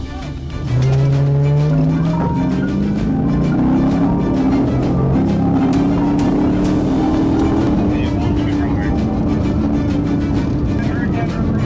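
A white Dodge Charger revs hard and bolts from a police felony stop, its engine rising steadily in pitch as it accelerates away, loud and continuous with road noise throughout.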